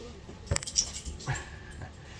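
Pet dogs whimper close by in a home, with a few brief whines and yips plus a jingle of tags, against a quiet background.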